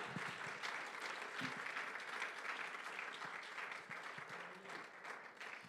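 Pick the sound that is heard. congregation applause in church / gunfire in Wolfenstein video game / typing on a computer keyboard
congregation applause in church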